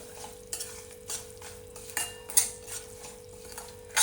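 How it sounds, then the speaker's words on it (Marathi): Rice roasted with dry fruits for kheer, stirred in a pan with a spoon: a steady run of scraping strokes and soft clinks of utensil against metal, close and quiet, with no talk. "तर आता तांदळासोबत अजून थोडे आपण ड्रायफ्रुट्स पण याच्या भाजून घेऊया. व्यवस्थित सगळं परतून घ्यायचं"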